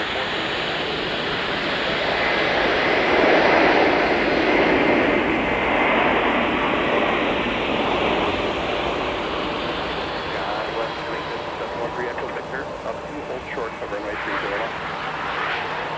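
Airliner jet engines rumble and whine at MSP airport in winter, with an A320 nearby and a 757-300 on the taxiway, a loud sustained roar that swells and then settles into a steady idling drone.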